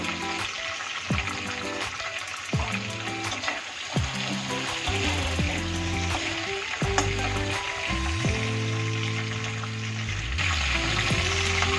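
Cinnamon, cardamom and salt frying in hot oil for a Bengali chicken curry, a loud continuous sizzle with repeated clanks and scrapes of stirring, close up and without speech.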